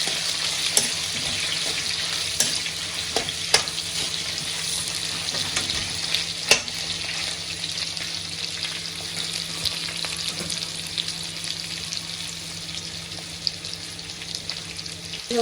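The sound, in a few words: frying onions in a pan for crab sukka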